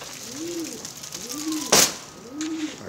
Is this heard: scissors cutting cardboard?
no